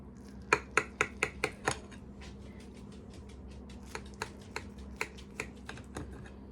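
A knife slicing through a crustless quiche, a series of sharp clicks and taps as the blade meets the dish, several quick strikes at first, then sparser ones, fairly quiet.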